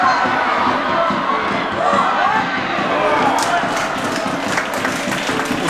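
Football fans in a stadium crowd react loudly as Anna Dias is substituted, a dense continuous roar of cheering and shouting voices that holds steady throughout, with sharper yells rising in the second half.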